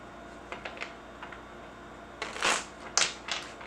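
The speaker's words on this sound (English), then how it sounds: "Don't mind as I shuffle." A deck of playing cards being shuffled during a casual evening conversation salon, a few soft riffling bursts near the end after quiet rustles, close and moderately loud with no talking.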